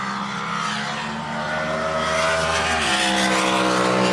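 High-horsepower drag boat engine screaming off the line at the Diamond Drag Boat Nationals at Lucas Oil Speedway, a loud, sustained, close roar that climbs in pitch as it launches.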